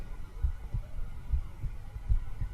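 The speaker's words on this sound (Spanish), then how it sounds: "el latido crecía cada vez más fuerte, más fuerte" A heartbeat sound effect for an audiobook of Poe's The Tell-Tale Heart thumps in steady low double beats, about six beats over a soft hum, close and alone.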